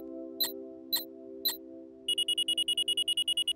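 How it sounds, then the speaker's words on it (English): A cartoon break-reminder invention gives three sharp clicks, then sets off a rapid, steady electronic beeping alarm, loud and close over a low constant hum. "When the alarm sounds, that means it's time for a break."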